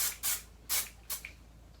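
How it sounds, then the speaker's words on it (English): Aussie Instant Freeze hairspray misted onto hair in three short, close hissing bursts with brief pauses between them, no talking. "it's time to set everything in place with hairspray. I'm using the Aussie Instant Freeze hairspray."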